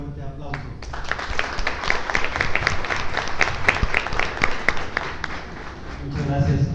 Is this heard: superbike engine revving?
no